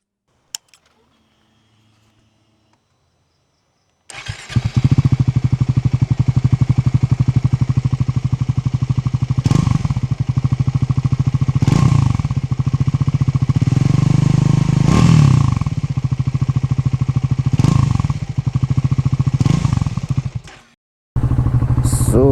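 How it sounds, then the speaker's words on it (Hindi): Triumph Scrambler 400X motorcycle engine starts after a quiet pause and runs loud and close, a steady thrumming idle with several revving swells before cutting off near the end. "So let's ride the Triumph Scrambler 400."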